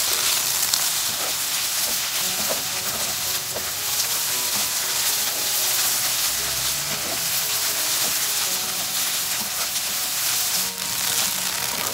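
Purple cabbage and desiccated coconut sizzle in a hot pan, a steady bright hiss with occasional scraping and stirring thuds as the mix is turned, no voices.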